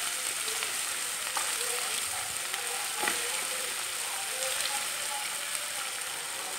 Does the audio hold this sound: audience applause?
no